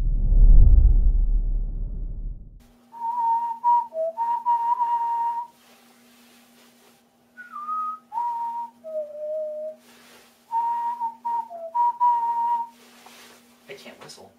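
Someone whistles a short melody alone, clear bright notes in phrases separated by pauses, with a low steady hum underneath.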